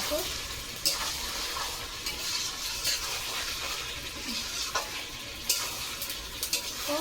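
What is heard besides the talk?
stir-frying food sizzling in a pan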